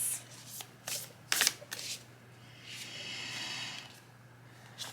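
A deck of oracle cards shuffled close up, with several sharp riffling bursts in the first two seconds followed by a longer, steadier swish of cards sliding against each other over a low background hum.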